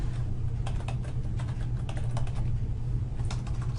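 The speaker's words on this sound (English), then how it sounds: "in this box is where you type in your text" Rapid, light clicking of keys on a computer keyboard while text is entered into a text box in screen-recording software, close and quiet over a low steady hum, with brief pauses between bursts of keystrokes.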